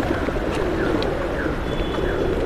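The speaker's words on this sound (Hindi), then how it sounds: "तो सारे वापस आए हैं देखिए कबूतर" Pigeons coo on a rainy day, soft repeated coos sitting over a constant roar of rainfall, the birds fairly close and the downpour steady throughout.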